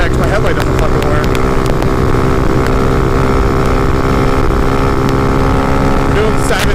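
A motorcycle engine revs hard in fifth gear during a wheelie at around 67 to 70 mph on a road, with a loud, steady drone and heavy wind noise close to the rider throughout.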